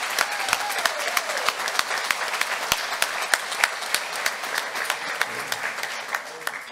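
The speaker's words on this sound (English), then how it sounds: "Why don't we give the Lord a hand clap of praise for these men?" A church congregation claps in praise during a worship service honoring veterans, a steady dense patter of hand claps with sharp individual claps standing out, sustained and fairly close throughout.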